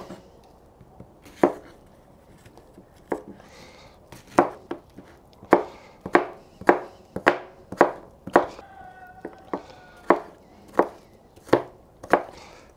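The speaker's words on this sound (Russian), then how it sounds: "Удаляя сердцевину, нарежем мелко." A knife chops sour apples finely on a board, a series of crisp, close knocks, irregular at first and then settling into a steady rhythm of roughly one cut per half second.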